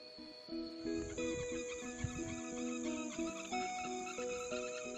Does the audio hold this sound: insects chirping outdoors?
yes